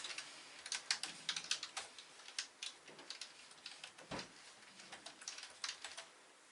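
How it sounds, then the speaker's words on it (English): Light, quick keystrokes on a Logitech K480 Bluetooth keyboard, irregular clicking bursts close by and fairly quiet, with short pauses between runs of typing. "So we're going to do just some little typing."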